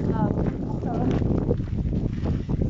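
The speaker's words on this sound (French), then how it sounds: "il fait pas froid, mais il y a un vent de fou" Strong wind gusting beside a lake, roaring and buffeting the microphone in a constant low rumble while a person talks over it throughout.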